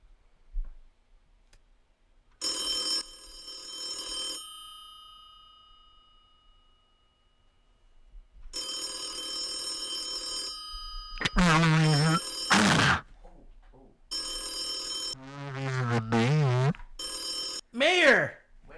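A telephone rings while a number is being called, two long bursts of ringing with a pause between, then more ringing mixed with people talking loudly and laughing over it.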